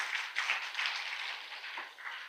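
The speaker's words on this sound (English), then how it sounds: "Let's give a clap to our Vice" Audience clapping at a Kenya Bankers session, a steady spread of hand claps filling the short stretch at moderate loudness with no voices over it.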